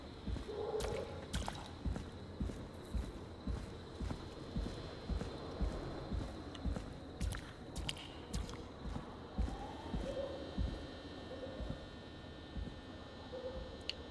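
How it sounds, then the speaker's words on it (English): Footsteps in the game Killer Frequency: a slow, regular series of soft, thudding steps, evenly spaced and continuing at a steady pace at moderate volume. "I hear footsteps."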